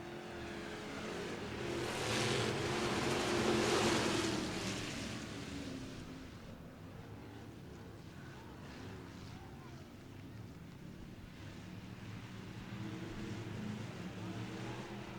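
Factory stock cars roar around North Florida Speedway during a heat race, a broad engine rumble swelling loudest early on, then settling into a steady distant drone with wind noise and a commentator talking over it.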